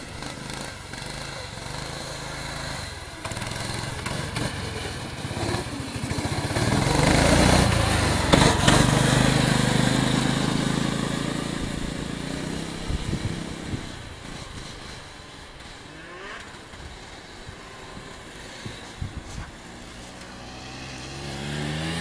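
The small engine of a Mini Z mini bike revs up, swelling to a loud, buzzy peak in the middle and then falling back to a lower, uneven idle with some clatter, heard from nearby.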